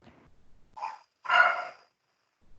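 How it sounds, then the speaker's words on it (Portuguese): A dog barks twice, a short bark then a longer, rougher growling bark, at moderate distance, with silence around and no speech. "Cachorro do demônio."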